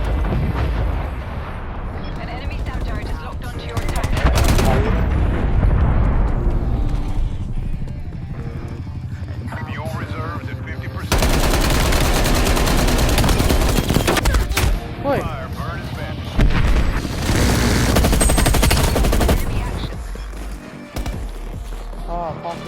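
Gunfire in the video game Call of Duty Black Ops Cold War, with loud sustained bursts and rapid shots in several stretches, mixed with other game noise.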